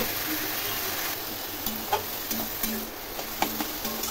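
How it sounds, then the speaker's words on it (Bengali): Khero (ash gourd) stirred in a pan with Rui fish head over low to medium flame, a soft sizzle with several distinct scraping taps of the spoon against the pan. "খেরোগুলো আমি নেড়ে দিচ্ছি।"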